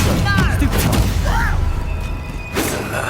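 A Bombarda explosion spell goes off in Hogwarts Legacy, with low booming thuds and a burst of crackling impact, mixed under swirling game sounds and a speaking voice.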